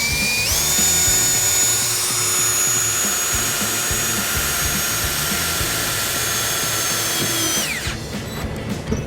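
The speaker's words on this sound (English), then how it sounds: "We'll take our electric drill and make our ground." An electric drill runs loud and steady for about eight seconds, boring a hole for a ground wire during trailer wiring installation on a 2014 Ford Escape, then winds down abruptly near the end.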